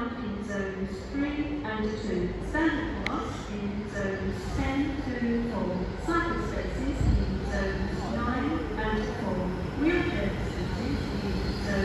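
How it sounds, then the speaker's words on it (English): A late-running overnight passenger train from London arriving into Penzance service at Newton Abbot, a steady loud rumble of engine and rolling stock with a brief squeal, under continuous talk from people on the platform. "As you hear, it's a night coach train."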